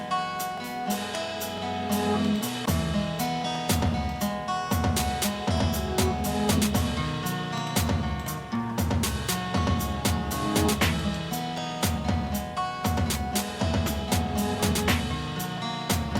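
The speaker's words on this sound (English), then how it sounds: "Taking out my vocals, this is what it sounds like, just the beat in general." Alternative hip hop instrumental beat with no vocals, steady drums and layered melodic parts playing continuously and loud for about sixteen seconds, with no talking.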